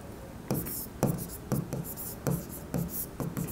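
A pen or pencil writes by hand on paper during an accounting lesson, making a series of short scratchy strokes at roughly half-second intervals, close and fairly quiet.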